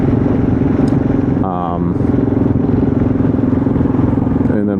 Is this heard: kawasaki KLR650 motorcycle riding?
yes